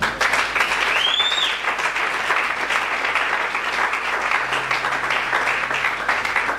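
A church congregation applauds loudly and steadily, a continuous dense clapping from a large crowd that fills the room with no pause.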